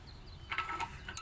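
A wrench working an oxygen sensor loose on a 2007 Toyota Camry Hybrid gives a few faint metallic ratcheting clicks and scrapes, quiet and close, ending in a sharper tick.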